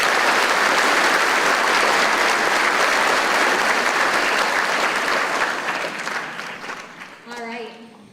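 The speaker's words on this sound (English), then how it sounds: "If we could, please give them a round of applause" An audience at an 8th grade graduation claps steadily and loudly for several seconds, then the applause thins out and fades near the end as a voice begins.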